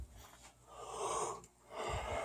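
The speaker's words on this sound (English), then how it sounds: "I'll try to keep the yawning to the minimum" Close, breathy yawn from a man, a long airy inhale rising and easing off, then a second stretched breath, quiet and alone.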